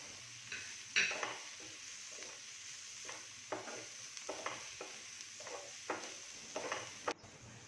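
Turmeric and chili powder are stirred into a pan for ridge gourd thoran: a spoon scrapes and taps against the pan in an irregular rhythm over a quiet, steady sizzle, with one sharper clink near the start.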